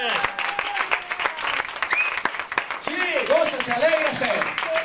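Applause from a church congregation during a Sunday sermon, a brief burst of clapping with sharp individual claps and excited voices calling out over it.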